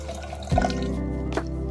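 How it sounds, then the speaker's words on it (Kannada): Water splashes into a pressure cooker in a short pour that starts abruptly, then runs on as a steady liquid trickle with a small splash near the end. "ಇವಾಗ ಕುಕ್ಕರ್ ಇಟ್ಬಿಟ್ಟು ಅದಕ್ಕೆ 2 ನೀರು ಹಾಕ್ತಾಯಿದ್ದೀನಿ."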